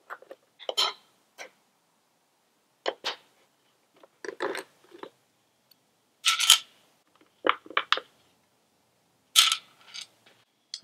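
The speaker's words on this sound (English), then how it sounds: "Now we're going to remove these two 5mm Allen bolts." 5mm Allen bolts are worked loose behind a flat bar near the battery of a 2018 Kawasaki Ninja 1000 during rear fender removal, giving scattered short metallic clicks and light rattles, close by, with quiet pauses and no talk.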